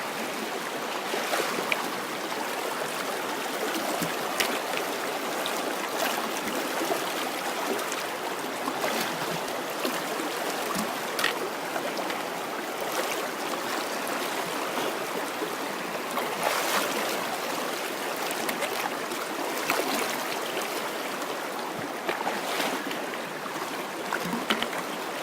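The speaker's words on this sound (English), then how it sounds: "The trail is over on the other side of the river." River near a backcountry trail to Lake Christabel, a continuous rushing flow with occasional brighter splashes, steady and fairly close, heard without talk.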